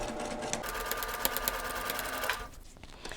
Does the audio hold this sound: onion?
no